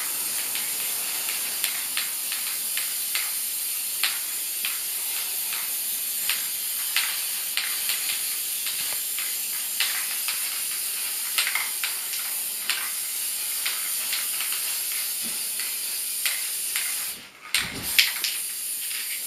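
Spray paint can coating a model planet for a school project, a continuous close hiss of aerosol spray with brief pauses and small clicks, and a short break near the end.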